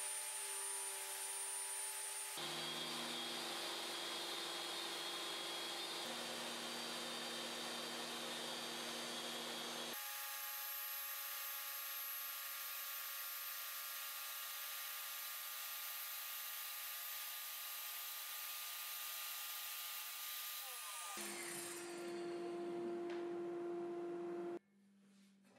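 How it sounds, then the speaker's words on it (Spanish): A table saw blade raised gradually through a homemade wooden insert gives a steady whining hum in several sustained stages, changing pitch as it cuts, alone without talk. "Ahora ya puedo realizar el corte para el disco al inserto, usando el propio disco y subiéndolo poco a poco."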